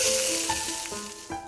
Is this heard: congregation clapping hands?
no